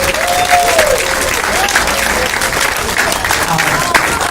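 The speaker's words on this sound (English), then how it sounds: "Give these guys one round of applause." Applause from a crowd at a professional bowling finals, steady and dense throughout, with cheers and voices mixed in.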